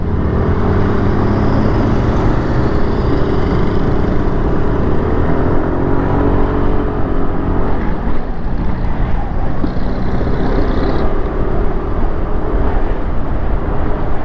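A motorcycle engine with about 9,586 km on it, bought in 2022, runs loudly and close, a dense steady roar with slight shifts in pitch throughout.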